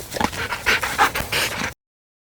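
A dog pants in quick, breathy bursts mixed with soft whimpers during a training session, close and fairly loud, ending abruptly in silence.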